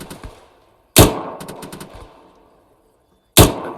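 Heavy gunfire from a general-purpose machine gun during an Arma 3 military squad training game. Two loud, sharp bursts ring out alone, with a few fainter shots in between and a decaying echo after each burst.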